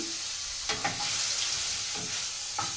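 Oil sizzles steadily as fish fries in a pan, a continuous hiss with a few sharper spatters and stirring scrapes, close and alone.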